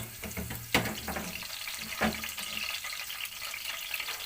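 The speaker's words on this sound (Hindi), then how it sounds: "ये है जी मेरा तड़का तैयार हो रहा है" Tadka tempering for dal sizzling steadily in a pan, a continuous frying hiss with a couple of sharp clinks or stirring knocks near the start, fairly quiet and close with no talking.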